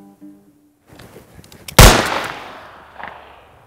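A loud gunshot cracks out in a comedy western duel, a single sharp blast with a ringing tail, then a fainter second report. A brief tone plays before it.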